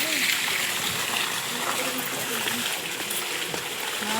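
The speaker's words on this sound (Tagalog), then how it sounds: "Dumi yung labas ng tubig." Water runs from a bathroom tap with a dirty discharge, a steady broadband gush and splatter that holds even and continuous throughout, close by.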